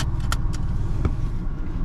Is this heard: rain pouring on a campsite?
no